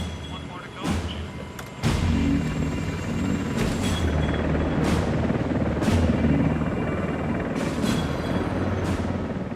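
A rescue helicopter hovering over a stormy Atlantic sea beside a ship, its rotor a loud, steady roar with periodic sharp slaps and bangs breaking through a dense wash of wind and engine noise.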